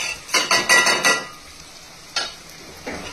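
Tomato cooking in a pan with turmeric, cumin and coriander powders, stirred in a quick burst of scraping strokes over a soft sizzle, then a couple of isolated scrapes after a pause.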